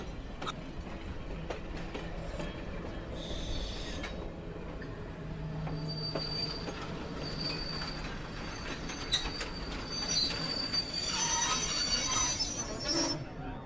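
A train arriving in Novi Sad rumbles steadily throughout, with rail clatter and high wheel squeals that grow stronger near the end. A voice can be heard faintly in the background.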